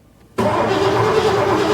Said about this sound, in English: Now you're gonna crank the engine.